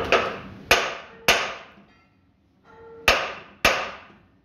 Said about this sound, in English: So now we have to put hammer in.